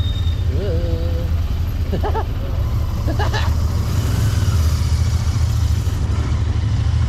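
Royal Enfield Interceptor 650 twin-cylinder motorcycle engine running steadily while riding through traffic, a constant loud low drone with road and wind noise and brief voices over it.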